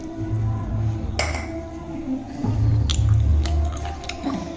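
Someone chewing hot roti with chicken curry, close moist chewing and squishy bites with a few faint clinks of dishes, no talking.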